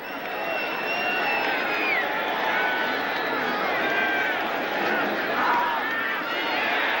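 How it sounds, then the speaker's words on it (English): A large stadium crowd at a 1989 NFL game between the Eagles and Chargers in San Diego keeps up a loud, continuous roar and murmur, rising slightly at moments, under a commentator's voice throughout. "The crowd doesn't like that."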